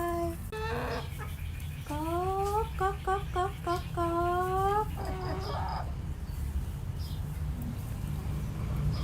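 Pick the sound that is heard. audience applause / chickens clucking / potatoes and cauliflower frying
chickens clucking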